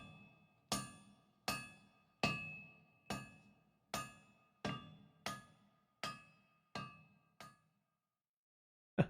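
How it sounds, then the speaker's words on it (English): In Pillars of Eternity, hammers strike metal about eleven times, evenly spaced, each blow ringing out clearly and fading before the next, followed by a final sharp hit. "Distantly, you hear the melodic chime of metal on metal and the low chorus of a work song."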